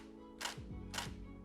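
Two separate Nikon D850 DSLR shutter clicks in single-shot mode, about half a second apart, close and sharp against a quiet room hum.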